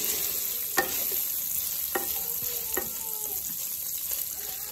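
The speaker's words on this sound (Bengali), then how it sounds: "এবার আমি পনিরটা অ্যাড করে দেবো এর মধ্যে, দিয়ে হালকা করে ভেজে নেব" Paneer sizzles steadily in oil in a pan, with a few sharp utensil scrapes and clinks breaking through; a thin high whine runs across the top.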